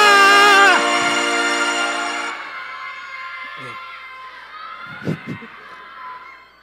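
A group of children shout together in one loud unison burst during a rehearsal, the cry ringing out with echo and fading, followed by a few scattered faint voices.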